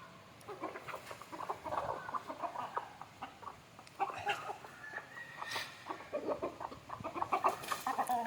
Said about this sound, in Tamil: எப்படி இருந்து சாப்பிடுன்னு பாருங்கள் ப்ரோ கோழி.